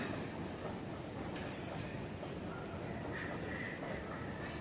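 Low, steady rumble of a metro train and station hum at Majestic station, Bangalore, fairly faint, with faint clicks and a distant bird call over the drone.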